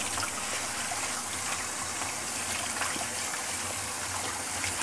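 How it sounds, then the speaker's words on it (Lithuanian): Water runs steadily onto a sponge in a continuous splashing stream, close and fairly loud, with no voices. "Paimam kempinytę, pašlapinam ją su vandeniu"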